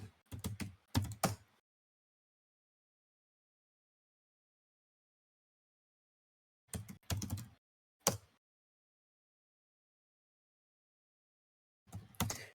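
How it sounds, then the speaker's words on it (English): Computer keyboard keys tapped in three short bursts separated by long silences while buffering inputs for Ultima 4: Quest of the Avatar, ending with an enter key; close, crisp clicks with no talk. "I've already typed out the answer, including an enter key"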